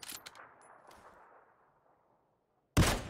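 A single sharp gunshot in the PUBG battle royale game cracks out loud near the end, after a long, fading tail of an earlier shot trails away.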